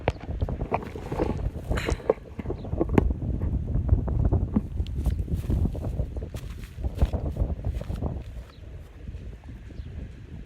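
Dry wind gusts buffet an outdoor microphone during a kite-flying session in Ubon. The rumbling, uneven roar is continuous and close, with scattered sharp knocks and flapping through it.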